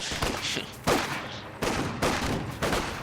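Automatic gunfire in a World War II battle in the strategy game Company of Heroes 2, with several short, sharp bursts at uneven intervals over a continuous rumble of combat.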